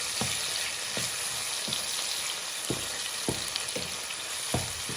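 Saltfish frying in a pan gives a close, steady sizzle, broken by repeated scraping thumps as it is stirred about once a second.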